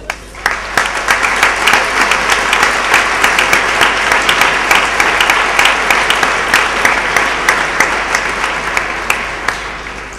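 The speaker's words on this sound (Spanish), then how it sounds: "Si me lo permitís, un aplauso para ella." A large audience claps steadily at a Spanish town fair's pregón ceremony, with dense, loud applause sustained for the full ten seconds and no talking over it.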